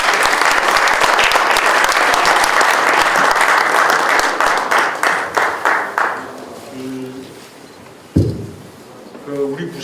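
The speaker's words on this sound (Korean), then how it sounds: "자, 경남에서 한번 오신 분 좀 특별히 박수 좀 부탁드립니다." Audience at a political lecture bursts into loud applause that holds for several seconds, then tapers into scattered final claps and fades, leaving a quiet room with brief voices and a sharp knock near the end.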